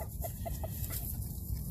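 A rooster among backyard hens clucks softly in a quick series of four short notes over steady outdoor hum, calling a hen to food he has found.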